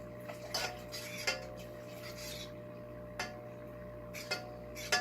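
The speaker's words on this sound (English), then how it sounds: "we're going to stir in some vinegar" Vinegar stirred into simmering chipotle and habanero peppers in a pot, a spoon knocking and scraping the pot in scattered close strokes over a low steady hum.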